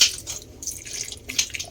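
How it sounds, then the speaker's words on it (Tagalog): Water poured into a cooking pot, a brief close splash and trickle in short bursts. "Ilagay na rin po natin ang tubig."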